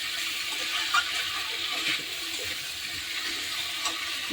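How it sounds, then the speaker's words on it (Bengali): Water pours steadily into a tilapia fish curry with potato, papaya and green banana, a continuous close splashing hiss that holds level throughout. "জলটা দিয়ে দিচ্ছি"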